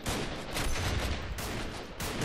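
Gunfire in the video game Freeman: Guerrilla Warfare, a dense, loud fusillade of overlapping shots with sharp bursts standing out, continuous and without talk.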